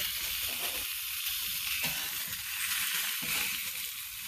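A green chile cheeseburger sizzling on a flat top griddle, a loud, close, continuous hissing fry with soft scraping pulses, without any talking.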